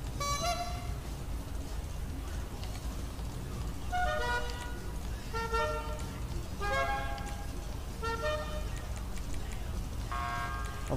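Car horn toots in the Grand Theft Auto V vehicle tuning menu, sounding as a series of short tonal honks spread across the stretch over a steady background bed.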